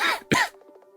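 A character in the video game Hello Charlotte wakes in a severe coughing fit: two harsh, close coughs in quick succession, then a faint breathy tail under a steady low tone.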